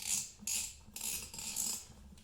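A hand ratchet cranks a Bead Buster XB-455 bead breaker with no impact wrench used, giving several close clicking strokes in a steady back-and-forth rhythm, with no voices.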